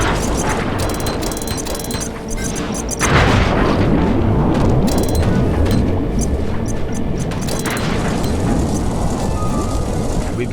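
Bombs explode in the Sly 3 video game, a deep boom rising out of dense clanking machinery and ratcheting gears, leaving a loud, busy mechanical din.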